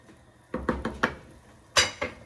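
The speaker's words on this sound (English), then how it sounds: "Give that a quick stir." A spoon stirs spicy chicken soup with mushrooms and bok choy in a pot, making a run of quick clinks and scrapes against the metal, then a louder knock near the end, close and without talk.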